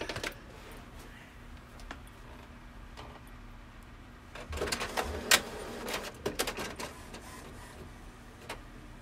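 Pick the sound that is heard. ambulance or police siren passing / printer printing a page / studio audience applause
printer printing a page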